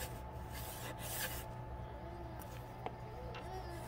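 A pointed tool faintly scrapes excess glue from the joints of a laser-cut 1:12 scale greenhouse kit, making soft, intermittent rasping strokes that are close and quiet.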